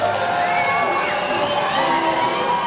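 A large crowd lining the Fort Worth Parade of Lights cheers and applauds continuously, a dense, steady roar with voices mixed in.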